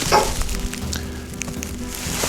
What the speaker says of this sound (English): we're going to start off by adding a bit of oil to our pan